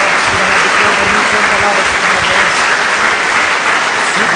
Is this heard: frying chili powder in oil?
no